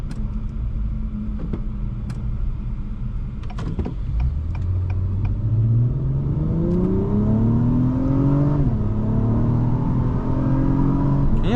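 A 2022 Acura TLX Type-S engine pulls hard under roughly half throttle, its note rising steadily in pitch through a gear, dipping briefly at a shift and climbing again, loud and close from inside the cabin with no talk.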